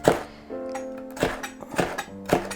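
A knife chops squid on a cutting board for a spicy stir-fry, with four or five sharp, close thuds at uneven intervals over a steady background of sustained tones.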